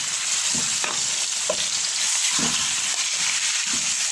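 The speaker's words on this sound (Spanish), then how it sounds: "Le voy a dar la vuelta para que se selle de todas partes." Beef tenderloin medallions searing in a hot pan, a loud continuous close sizzle with brief thumps and shuffles as the meat is turned, no talking.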